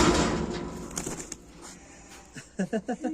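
A pigeon-like bird newly brought to a farm coos several times in soft, throaty, rhythmic calls near the end, following rustling and handling noises close by.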